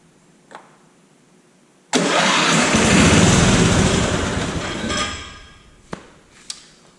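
A Simplicity 4208 riding mower engine cranks and catches at about two seconds, running loud and rough for several seconds before cutting out, followed by a couple of sharp clicks.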